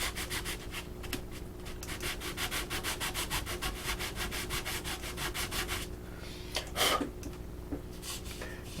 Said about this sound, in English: It's going to be easier to sand you.